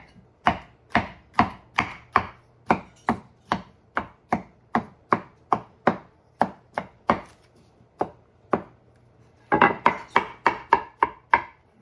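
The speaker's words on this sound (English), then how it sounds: "I'll just chop those up." Leftover mushrooms chopped with a knife on a board, about thirty crisp, evenly spaced thuds, close and clear, with a faster flurry of cuts near the end.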